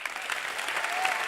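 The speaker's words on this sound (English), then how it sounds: "Clap it up. Clap it on up." Audience applause at a chapel talk, a dense steady clapping from a crowd that holds evenly through the whole stretch without a break.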